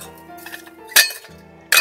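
Stainless steel parts of a pyrolysis camping stove, stored in a Tatonka Kettle 1.6L cookset, clink together in two sharp, close metallic knocks, the second coming just under a second after the first, over faint background hum.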